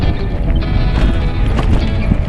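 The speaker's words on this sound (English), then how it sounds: "Oh, I'm scaring the sheep again." Sheep bleat amid a dense, noisy outdoor background near a forest on the Tour Divide bikepacking route between Colorado and New Mexico, the calls blending into a constant close rumble.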